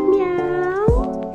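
A cat meows once, close and fairly loud: a single drawn-out, rising-then-falling cry with a brief thump near the end, heard on a family trip in Okayama and Kurashiki, Japan.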